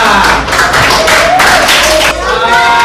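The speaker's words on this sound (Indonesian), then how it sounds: "tepuk tangan untuk kita semua" Classroom full of students clapping together for the whole class, a dense, steady burst of applause that stays loud throughout, with some voices mixed in.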